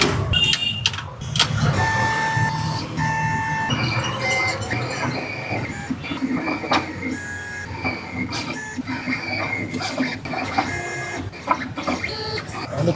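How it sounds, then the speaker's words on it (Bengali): A vinyl sticker printer runs on a white sheet, whirring and clunking as the print head shuttles back and forth with motor tones and mechanical clicks, loud and close; no talking. "ওই যে কম্পিউটার থেকে ক্লিক করবে আর এখানে শুরু হয়ে যাবে প্রিন্টিং"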